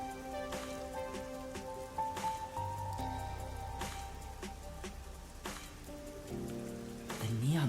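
Rain falls steadily in the neon-lit streets of Ganai Ward in the video game Master Detective Archives: Rain Code, a soft wash of drops beneath layered synth music with occasional brighter taps.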